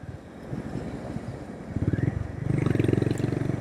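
A 2026 Honda CB350 RS motorcycle engine thrums while being ridden, with a low, pulsing exhaust beat that grows louder and more rhythmic midway, mixed with wind buffeting the microphone.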